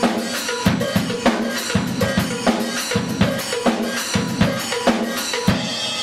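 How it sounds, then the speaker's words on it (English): A drum kit plays a tight, repeating polyrhythm on hi-hat, cowbell, left kick, splash cymbals and snare, with busy, evenly spaced hits played alone and close. "and it's involves the hi-hat, this cowbell, the left kick, this splash, the snare, and this splash."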